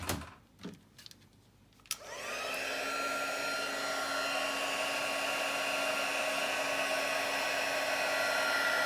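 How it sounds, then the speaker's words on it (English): Heat tool blowing hot air onto a stamped paper craft, a few clicks and knocks before the motor whirs up to a steady, loud, high-pitched blowing whine that continues to the end. "So I'll heat that with the heat tool."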